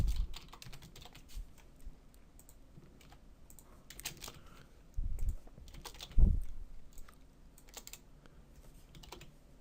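Computer keyboard typing code: irregular runs of light, close key clicks and taps over about ten seconds, with a few heavier thumps mixed in and no talking.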